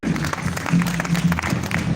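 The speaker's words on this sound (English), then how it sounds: "Let the clapping continue." Applause from an audience in a hall at a fish farmer congress, a continuous patter of many hands clapping at moderate loudness with a faint voice beneath.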